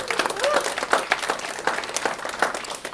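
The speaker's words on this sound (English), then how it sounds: "So that deserves a big clap" An audience applauds for a studio manager at a Post University partner-of-the-year award speech, steady mixed clapping from a crowd for a few seconds with some talk underneath.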